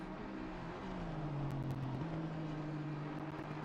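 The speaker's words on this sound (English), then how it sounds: "I can just hear the Audi revving." An Audi race car in a racing video game revs faintly in the distance, a steady engine drone that climbs and dips slightly in pitch, alone and quiet.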